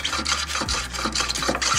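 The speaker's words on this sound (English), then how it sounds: "So Pearl has this wax scraper sharpener." A plastic snowboard wax scraper is drawn through a scraper sharpener, giving repeated rasping, filing strokes in a steady back-and-forth rhythm, close and moderately loud with no talking.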